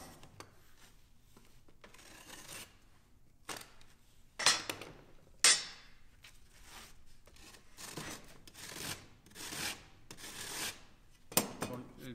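A plasterboard drywall panel being cut, with repeated rasping strokes and scraping bursts at an uneven rhythm, moderately close, and a few sharper knocks between them.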